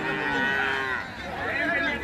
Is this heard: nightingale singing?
no